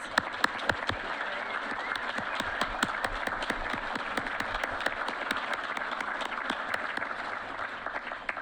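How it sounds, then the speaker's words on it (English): An awards ceremony audience applauds steadily, dense clapping filling the room at an even, sustained level with no talk over it. "Let's give him a round of applause"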